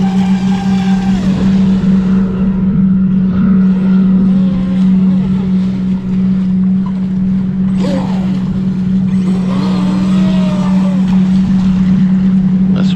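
A ProBoat Recoil 2 Shreddy Edition RC boat's electric motor screams at full throttle, a loud, steady high whine with rising and falling swoops as it turns across the water.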